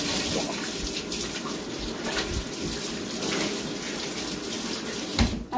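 A tap running at high pressure, a steady loud hiss and splash of water that continues without a break and sounds close by.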